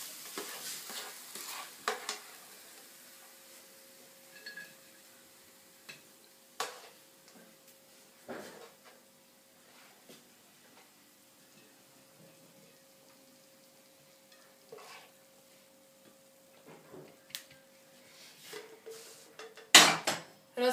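A finished Chinese stir-fry is served from a pan onto a plate: sparse quiet scrapes and light utensil clicks over near silence, ending in a sharper metallic clatter.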